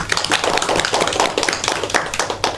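Classroom applause from students in a microteaching lesson, loud close clapping with an irregular patter of individual hand claps.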